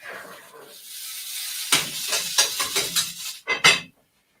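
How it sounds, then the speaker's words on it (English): Beef barley soup with mushrooms stirred in a pot on the stove, a run of close scraping and clinking strokes against the pot over a faint simmering hiss, ending abruptly. "So I'll give it a stir."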